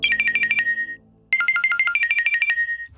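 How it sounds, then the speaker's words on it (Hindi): A bright electronic ringtone plays close by, two bursts of rapid repeating beeps separated by a brief pause. "तेरा बज रहा है। Sorry, I change the ringtone."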